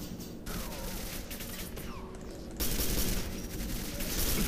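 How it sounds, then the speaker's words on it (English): Gunfire in the shooter game Quake 4 rattles in quick continuous bursts under a dense mechanical din, growing louder partway through, with no one talking. "Ooh, gunfire."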